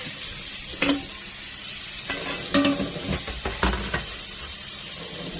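Vegetables soaked and rinsed by hand in salt water, then clean water, with intermittent splashes and knocks of produce moving in the water, some sharper bursts standing out over a steady wet background.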